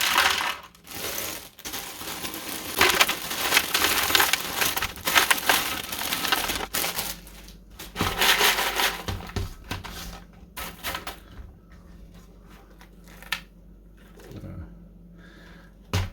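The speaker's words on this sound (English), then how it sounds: "I've got my pellet ice. These little balls." Small pellet ice balls pour out in clattering, rattling rushes, loud and close, coming in uneven bursts that thin out into scattered clinks and trickles toward the end.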